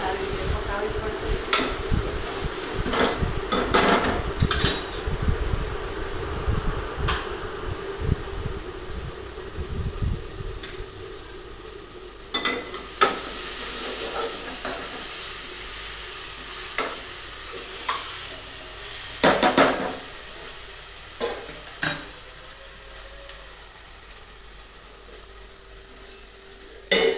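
Onions sizzling and frying in a pan while being stirred, a steady crackle with scattered scraping clicks throughout; the heavy low rumble fades after the first ten seconds and the sizzle continues alone.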